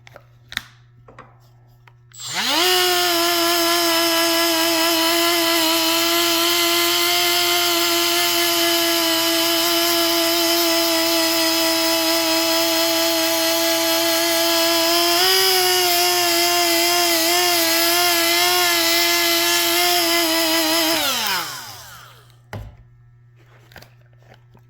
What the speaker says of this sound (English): This little Milwaukee die grinder has been such a lifesaver.